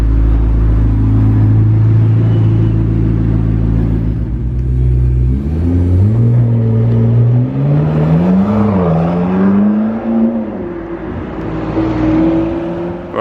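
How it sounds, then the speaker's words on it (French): A McLaren 650S Spider pulls away from a McLaren dealership, its engine rumbling steadily, then revving up through rising and falling tones as it accelerates, loud and close throughout. "une petite McLaren 650S Spider qui s'en va de la concession McLaren"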